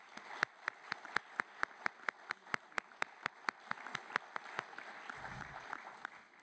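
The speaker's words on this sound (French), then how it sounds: "On donne un bon main d'applaudissements." At a conference, sharp rhythmic clapping, near and evenly spaced in a steady beat, builds into a looser, denser round of applause toward the end.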